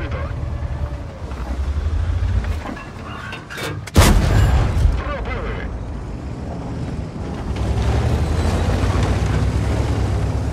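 A heavy tank cannon blast in a video game cracks out a few seconds in, a sharp boom over a steady low engine rumble, with a brief faint voice nearby.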